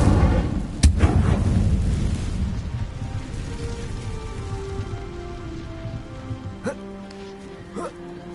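Incendio fire spell cast in the video game Hogwarts Legacy: a sharp burst of crackling, rushing flame that hisses and roars loudly at first, then fades into a lingering crackle with a couple of small pops near the end.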